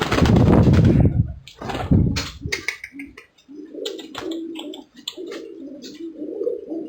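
A small perkutut zebra dove coos in a repeated rhythmic series near the microphone after loud handling bumps and rustles at the start.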